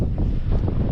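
Wind blows hard on the seaside boulevard in Barcelona, Sorsogon, in the Philippines, making a brief, loud, steady rush and buffeting noise on the microphone.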